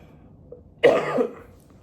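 A single rough cough, close and fairly loud, rising out of a quiet background and trailing off after a moment.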